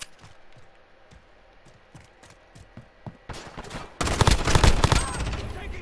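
MP7 submachine gun bursts in Call of Duty Modern Warfare 2v2 gameplay, starting as faint, spaced single shots and swelling into louder, rapid sustained automatic fire near the end, with no voice over it.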